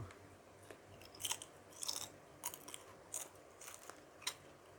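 Chewing and biting on garlic and herb flavour crisps, a handful of crisp, crunchy bites spaced irregularly, close and fairly quiet with no talking.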